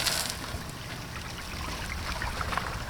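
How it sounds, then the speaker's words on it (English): Water from a hose rinses through an RV holding tank, a steady close rush and trickle running without pause. "rinse your hose with the gray tank like you do when you're typically dumping your tanks"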